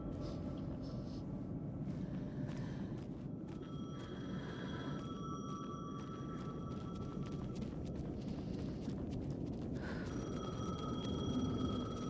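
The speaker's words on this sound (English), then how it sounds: "The phone again." A telephone rings in the video game Alan Wake 2, a repeated electronic trill sounding in a few spaced bursts over a constant low rumbling ambience, moderately near and without speech.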